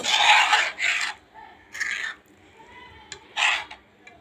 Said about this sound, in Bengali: এখন এই মশলার সঙ্গে মাংসগুলো মিক্স করে ফেলবো